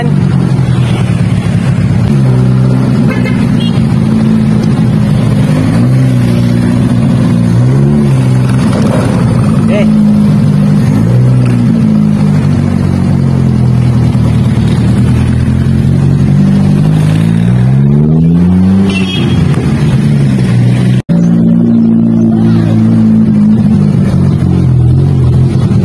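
A car fitted with an 18-inch SCAV muffler revs with a deep, loud, continuous exhaust drone that rises and falls in pitch, with people talking over it throughout.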